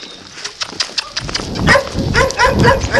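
A farm dog barks in short repeated bursts while cattle are being moved through a town, with shouting and calls to the dog mixed in around it.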